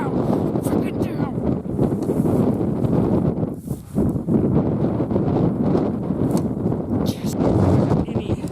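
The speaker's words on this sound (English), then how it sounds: "The wind is so crazy." Strong wind gusting across open Kansas prairie during an archery antelope hunt, a loud continuous roar buffeting the microphone throughout with only brief lulls, and faint voices underneath.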